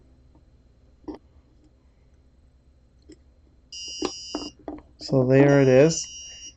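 Small electronic buzzer driven by an Arduino sounds a few short beeps, then a louder warbling electronic tone, close up, with a brief spoken line before it.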